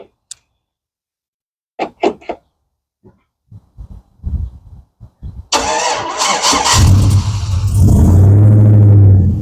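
A 2007 Chevrolet Avalanche engine is started remotely: a few faint clicks and beeps, then the starter cranks and the engine catches, settling into a steady, rumbling idle close by.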